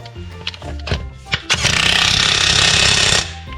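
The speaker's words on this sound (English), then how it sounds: "Then I'll put the impact on and they'll be tight." A few short taps and clunks, then a loud rapid rattling burst of an impact wrench running for about two seconds before stopping.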